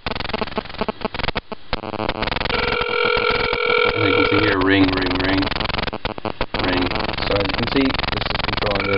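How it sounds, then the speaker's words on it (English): A phone dials a DroneCell SIM card number and rings, giving steady electronic tones and beeps with a few abrupt breaks, loud and close, with no speech over them. "I'm calling it now, just dialing my regular phone number."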